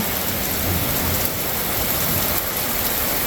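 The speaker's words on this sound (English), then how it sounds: "We really need some rain." Steady, heavy rain of a thunderstorm pours continuously around a house in the country, a dense full hiss with no pauses and no voices.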